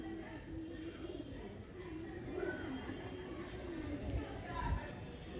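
Several pigeons coo in low, repeated murmuring phrases under a steady, noisy background, close and moderately quiet throughout.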